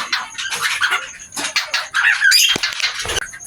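Pet finches kept outdoors in cold, windy weather give rapid bursts of high, scratchy chirps and squawks, close and busy, overlapping in quick succession.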